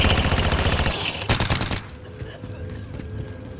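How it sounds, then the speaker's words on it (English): Rapid automatic gunfire in the video game Call of Duty: Modern Warfare, loud dense bursts then a sharp volley, fading to a quieter tail with scattered shots. "I'm taking fire."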